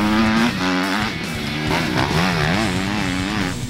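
Loud, close Kawasaki KX250F 2017 motocross bike engine revving hard, its pitch climbing and dropping in quick throttle blips through low and mid revs.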